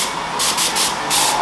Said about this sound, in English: Right now I'm spraying poisonous thinners